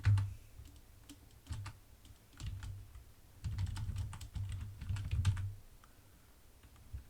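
Close computer keyboard typing as keyboard shortcuts are pressed, scattered clicks and short bursts of keystrokes with small gaps between them, no voices.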